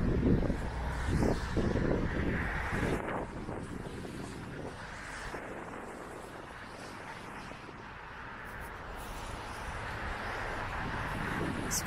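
Wind blows on a gusty day outdoors along Yonge Street north of Steeles Avenue, at the Toronto and York Region boundary. A steady, broad rumble of wind on the microphone rises and falls, with no voice heard.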